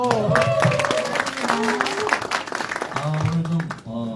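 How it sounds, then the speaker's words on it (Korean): Brief audience clapping at a Korean education talk event with a live guitar-and-song segment, mixed with voices and crowd noise across a few seconds. "오, 박수."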